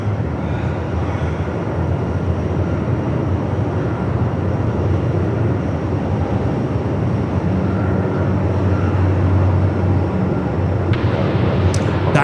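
A Rex aircraft takes off at Melbourne Airport in 45-knot winds, giving a steady, loud engine roar mixed with heavy wind rumble that holds throughout, with no speech.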